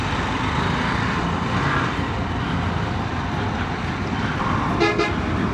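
Traffic jam on a road near Virar: a steady rumble of engines and road noise, with a short, sharp car horn burst rising clearly near the end.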